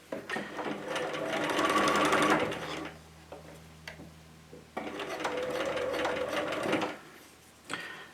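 A sewing machine stitching a fabric scrunchie, running in two long loud bursts of rapid mechanical whirring separated by a brief pause, with a short restart at the end.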